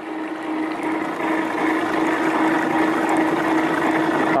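Water rushes steadily through a gold sluice separating gold from soil, a dense, even wash of flow over a constant low pump hum, close and continuous with no pauses.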